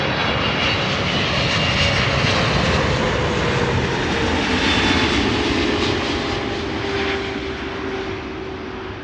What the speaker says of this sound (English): KLM flight 622 arriving from Atlanta.